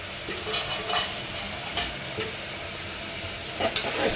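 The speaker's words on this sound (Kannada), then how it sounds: "ಇದು ಇವಾಗ ಚೆನ್ನಾಗಿ ಫ್ರೈ ಆಗಿದೆ ತರಕಾರಿ" Vegetables for a korma frying in a pan with chilli powder, a soft sizzle broken by scraping stirring strokes and a few clinks near the end.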